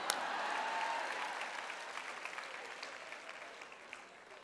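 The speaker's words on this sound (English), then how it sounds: "hey, Sister Joyce, I'm still clapping." A crowd applauding steadily, dense clapping that gradually fades a little, with no voices on top.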